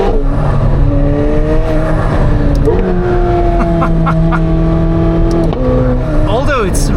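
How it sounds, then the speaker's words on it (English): McLaren 750S Spider with its V8 mounted behind the cabin, a loud continuous engine drone that climbs and shifts pitch in steps as it pulls through gears, with a person talking over it from inside the car. "roll down and have that V8 screaming in your head from behind, which is so cool"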